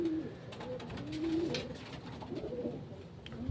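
Racing pigeons coo softly in repeated low throaty calls during training in San Fernando, Pampanga, with faint rustling and background noise.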